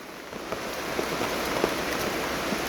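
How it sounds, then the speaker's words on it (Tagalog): Heavy rain pours down steadily on a mountain, a dense hiss of drops with occasional louder splashes close by, no voices. "lumalalong lumakas yung ulan"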